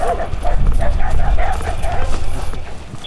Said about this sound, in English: met by the family dog